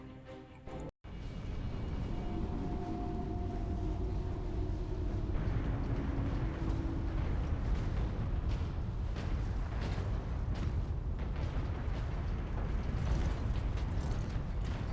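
Huge gates and cranes grinding in Warhammer 40,000: Space Marine, a dense mechanical din of creaks and ratcheting gears with a steady low rumble, after a short sharp dropout, and no talk.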